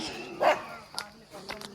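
A dog gives a few short barks and yips, moderately close, spaced out over a couple of seconds while a person speaks nearby.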